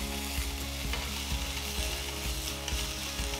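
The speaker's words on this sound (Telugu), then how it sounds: "ఇప్పుడు 1 టీ స్పూన్ అల్లం వెల్లుల్లి పేస్ట్ వేసి అంతా ఒక్కసారి కలపాలి." Ginger garlic paste stirred into golden-brown fried onions for a vegetable kurma, a dense continuous sizzle with repeated scraping strokes of a spoon against the pan.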